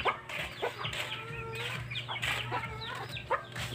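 Several farmyard chickens cluck steadily in a rural field, their short calls coming at close to medium distance with a low background hum and no talking.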